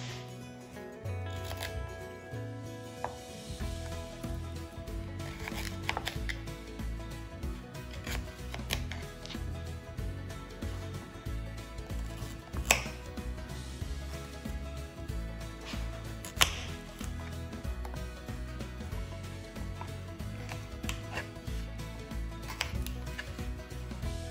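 A knife rough-chops carrots, parsnip, celery and onion into big pieces for Czech svíčková. Close, crisp knocks of the blade against the board come in uneven clusters over a quiet background.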